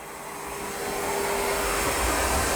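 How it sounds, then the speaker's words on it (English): A Roborock Saros 20 robot vacuum runs across a room floor while vacuuming and mopping, giving a continuous close whirring motor drone that grows slightly louder and stays steady, with no voices. "It definitely needed to vacuum and mop the center of the room."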